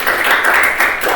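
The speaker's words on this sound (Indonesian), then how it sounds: "Tepuk tangan dong." A class in a teaching session breaks into applause, a dense burst of clapping from many hands lasting only a moment, with voices mixed in under it.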